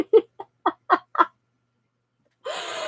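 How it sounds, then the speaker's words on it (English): A pet chicken gives a short run of six soft, close clucks in quick succession, then a pause and a brief burst of higher rustling noise. "talking to my chicken"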